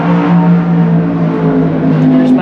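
Loud, steady car engine roar from inside a drag car during a test-and-tune run, holding a strong droning pitch that dips and shifts as the driver short-shifts into fifth gear.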